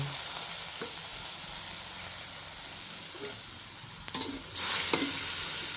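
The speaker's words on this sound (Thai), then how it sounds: "จะทำการหยอดน้ำลงไปนิดนึง" Stir-fried pork with asparagus and mushrooms sizzles in a pan under a steady hiss with a few spatula taps, then a splash of water goes in and the sizzle jumps to a louder, brighter burst near the end.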